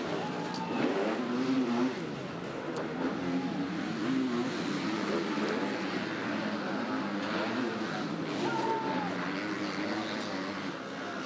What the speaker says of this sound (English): Charlier enjoying leading the race here at Matchley Basin